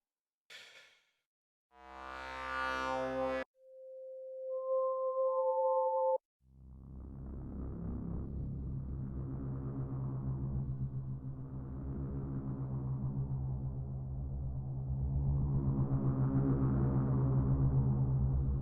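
A pad preset from a Korg Poison-202 synthesizer plays as a loud, sustained, droning chord lasting about twelve seconds. Before it come a few brief synth tones and blips.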